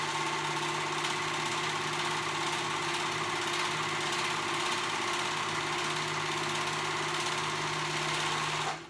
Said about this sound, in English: we're going to go ahead and sew those together to make like a sleeve